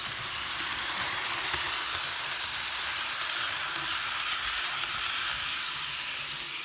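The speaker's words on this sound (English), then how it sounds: "This set is full die-cast, so this is a complete metal train. So it is going to be kind of loud" A full die-cast metal model train runs along a Christmas layout track with a continuous, even rolling rumble and rattle, steady and moderately loud throughout with no talking.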